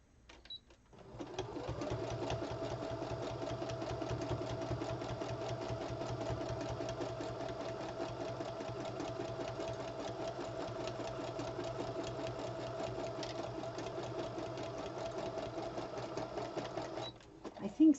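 A sewing machine runs steadily at speed for about fifteen seconds while stitching a wiggle, or serpentine, stitch on a quilted Christmas tree block. The whirring is close and continuous and stops abruptly near the end.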